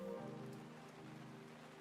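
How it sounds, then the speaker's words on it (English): Rain falls outside a house as a soft, steady, faint hiss in the background, with a low tonal hum running beneath it. "there's rain in the background."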